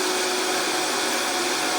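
Raw chocolate mixture whirring in a blender, a steady, loud, continuous motor drone with a fixed pitch, heard close up and running throughout without pause.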